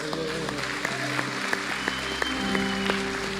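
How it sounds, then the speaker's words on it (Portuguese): A church congregation applauds God, a steady wash of many hands clapping under sustained music, with a few sharper claps standing out, fairly faint overall. "Agora você aplaude a Deus."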